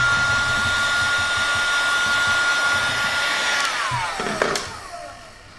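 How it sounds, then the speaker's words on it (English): A paint-stripping heat gun blows steadily as it warms a leather strop coated with sharpening compound, a loud, even whine and rush of air that winds down near the end with a faint clunk. "I've got an air gun here that I use for paint stripping"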